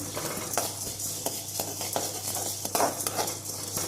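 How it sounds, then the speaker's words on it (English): Dry dal powder ingredients frying in a pan as a ladle keeps stirring them, giving a steady low sizzle with scattered scraping clicks of metal on the pan, close and fairly quiet, with no talking. "So while frying, keep on moving the ladle since it won't get well finely burnt."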